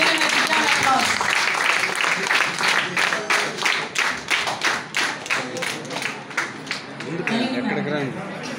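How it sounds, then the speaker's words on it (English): An audience at a university function claps for the Vice Chancellor as chief guest on the dais, with individual hand claps clearly audible in a thinning rhythm. A voice talks over the start and resumes near the end. "give him a big round of applause."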